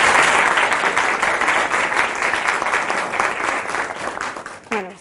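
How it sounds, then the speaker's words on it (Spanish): An audience at an academic lecture on waste gas treatment greets a speaker with strong, dense applause that gradually tapers off, and a voice begins just at the end. "quiero que por favor la reciban con un fuerte aplauso"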